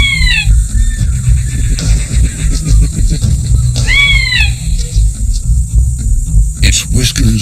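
A fossa, the large cat-like predator of Madagascar that evolved from mongooses, gives drawn-out, rising-and-falling mewing calls in a few bursts, loud and close, over a low rumbling background with a narrator speaking.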